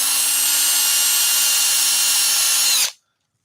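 Power drill boring shallow 6 mm holes into wood for dowels, a steady high whine running continuously close by for nearly three seconds before stopping abruptly.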